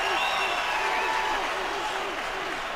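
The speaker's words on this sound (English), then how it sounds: "Crowd is back into it." A football stadium crowd at a Green Bay Packers at Chicago Bears game roars in a steady, dense wash throughout, with a commentator talking over it.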